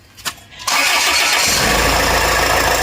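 A Land Rover engine with a faulty V-belt tensioner cranks briefly, catches and settles into a loud, steady running roar.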